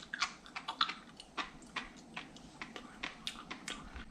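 Fresh sea grapes straight from the ocean are bitten and chewed, giving a quick series of sharp, crisp crunches and pops in an irregular rhythm, close and fairly loud with no talking.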